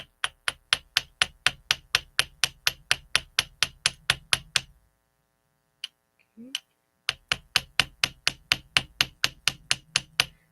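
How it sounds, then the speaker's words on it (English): A large chasing hammer strikes metal earrings in a steady, quick series of sharp taps, a short pause with a brief spoken word, then the rhythmic hammering resumes close and clear. "I am using a chasing hammer that is on the larger side"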